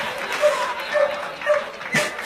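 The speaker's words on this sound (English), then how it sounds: "Sounds like happy barking." A dog gives a series of short, high yips and barks at a fairly regular pace, moderately close, over a low background hum.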